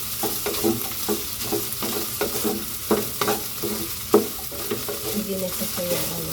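Squid balls frying in oil in a pan, a close steady sizzle with repeated scrapes and clicks of a utensil stirring them, no talking.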